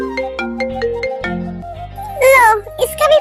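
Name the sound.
phone ringtone, incoming call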